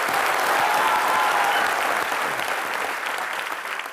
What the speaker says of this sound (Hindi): जोरदार तालियां एक बार मैरी कॉम के लिए